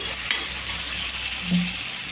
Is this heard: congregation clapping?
no